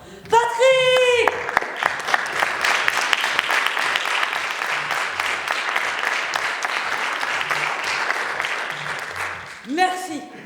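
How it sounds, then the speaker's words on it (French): Theatre audience breaks into sustained, even applause after a performer's sung or shouted call, clapping steady for about eight seconds before a voice rises again at the end. "J'aimerais que tous et toutes vous applaudissiez Patrick de là-haut."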